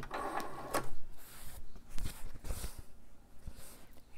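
A sewing machine backstitches fabric in short, close mechanical bursts of rapid needle clatter with brief pauses between runs, heard on its own without speech.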